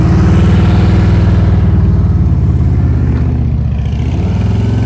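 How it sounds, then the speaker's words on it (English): Motorcycle engine chugging at low RPM during a slow-speed riding practice session, a steady loud throbbing close by that fills the whole clip with no talk over it. "I'm hearing your motorcycle chug-a-lug."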